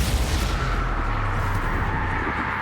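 Confringo blasting spell in the video game Hogwarts Legacy, a loud continuous roar of fiery explosion with a heavy low rumble that stays sustained and dense throughout.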